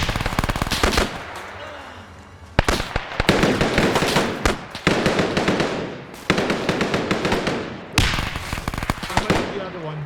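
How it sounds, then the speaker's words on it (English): Rapid blasts and heavy gunfire fill a WW2 video game battle, with loud bursts cutting in again and again and brief gaps between the clusters. "Grenades."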